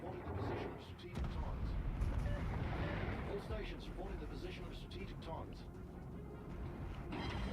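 Armor-piercing shells slam into a warship in World of Warships, heavy booming impacts and rumbling explosions over continuous engine and sea noise, with someone talking throughout.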